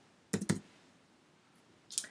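A computer mouse clicks during quiz setup in Canvas: a quick double click, then a pause and one more single click, crisp and close in an otherwise quiet room.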